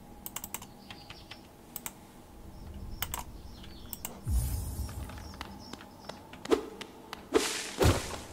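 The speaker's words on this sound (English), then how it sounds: "Let's type whatever number we want." Numbers are typed on a computer keyboard in short bursts of crisp key clicks, close up, ending in a few heavier thumps.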